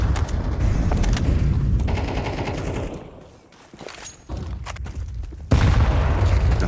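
Rapid rifle fire punching through a wall in Counter-Strike 2 at a professional match on the Ancient map, loud bursts of shots and booms with a brief lull midway and a sharp burst near the end.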